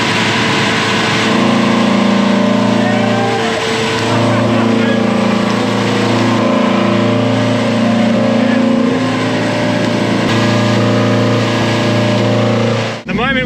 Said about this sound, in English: Basically, we're going to engage VTEC and just see if it makes changes.